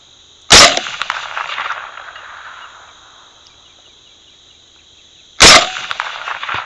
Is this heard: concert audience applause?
no